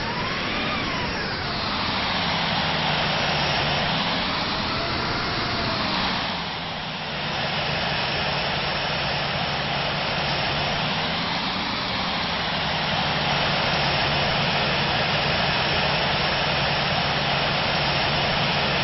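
A simulated airliner in the Infinite Flight game, a Hawaiian Air 717 or Delta A319, taxiing to parking: a steady jet engine whine and hum with slow rises and dips in pitch, moderately loud and continuous.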